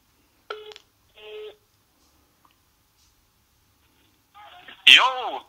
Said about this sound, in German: Ich rufe jetzt den Tobi an